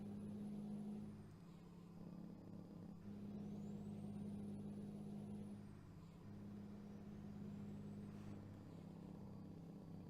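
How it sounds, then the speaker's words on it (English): A truck passes close by on a road at highway speed, heard as a loud, steady engine drone and tire roar that swells and eases, with no talk. "That truck was close."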